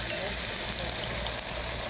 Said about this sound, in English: Here's my favorite part. Where the pork hits the oil.